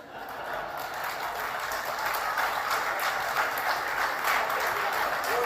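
An awards-ceremony hall audience applauds at the Goenka awards, a dense sustained wash of clapping that swells slightly after the first second and stays loud and steady.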